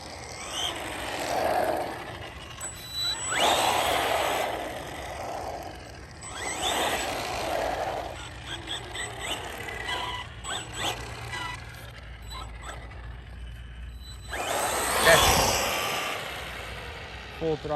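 An Arrma Senton 3S BLX brushless RC short course truck at full throttle, its motor whining in loud surging bursts that rise and fall several times, with a voice speaking between runs.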